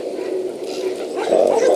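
A small male dog in a backyard kennel yard whimpers and lets out short yips, a thin whine rising and growing louder toward the end, close by with no talk.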